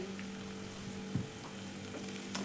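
Onions frying in a pan until golden, a steady close sizzle with a low hum throughout and a couple of brief clinks or stirs, no voices.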